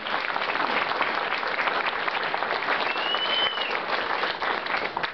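An audience at an Elks lodge mortgage burning ceremony claps steadily and fairly loudly in a dense, continuous round of applause.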